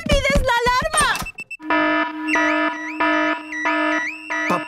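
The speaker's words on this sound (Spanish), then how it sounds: "¡Papá cerdito encendió la alarma! El ruido despertó a todo el vecindario." A cartoon car alarm set off by a pig character goes off in repeating whooping, warbling electronic cycles after a brief burst of excited talking, sounding loud and close.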